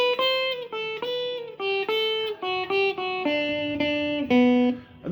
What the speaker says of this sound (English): if you want to do the picking of each note,